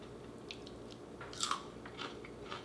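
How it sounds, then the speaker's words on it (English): Crisp, close crunching bites with a few sharp cracks as a cinnamon sugar tortilla chip is chewed, quiet otherwise. "Hear that crunch?"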